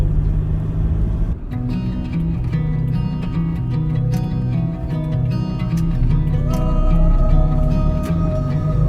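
Car driving along a narrow lane in northern Thailand's Lanna region, with steady close engine and road rumble and tonal drivetrain hum that shifts slightly in pitch partway through, no voices.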